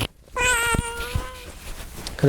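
A cat meows once right at the microphone, a loud, drawn-out, tonal cry, with a few soft knocks and a brief voice at the edges.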